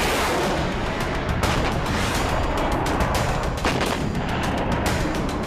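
155mm howitzer artillery fires in dense, loud, repeated blasts, with sharp booms overlapping in a continuous barrage of heavy gunfire.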